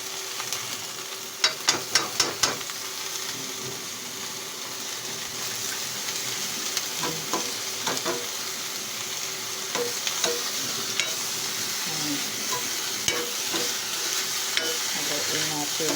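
Bitter gourd (ampalaya) and egg stir-fry in a pan with a steady sizzle, sharp spatula clinks at the start and scattered scrapes and taps as it is stirred.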